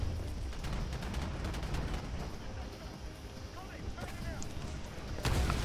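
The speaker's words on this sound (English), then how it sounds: "Because I'm getting shot by a fucking turret." Muffled, rapid bursts of turret gunfire from a video game, a continuous low rumbling barrage with scattered bright shots, heard close and steady across the clip.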